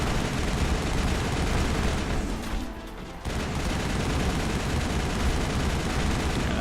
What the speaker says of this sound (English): you need to be using your assault rifle, sir